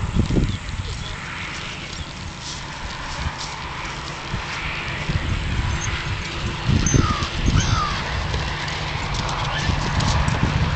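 A horse's hooves clip-clop at a slow walk on a ranch path while a person speaks nearby, the steps soft and irregular under steady outdoor background noise.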